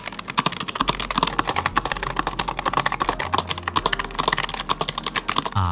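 Rapid, continuous keystrokes on a low-profile mechanical keyboard, clacking up close in a dense, busy rhythm with no pauses.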